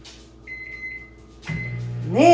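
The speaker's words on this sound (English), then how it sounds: "I'm going to microwave it for another 30-40 seconds" A microwave oven heating ground beef hums steadily, with a door or button clunk near the middle and beeps toward the end. The sound is close and moderately loud, with no talking.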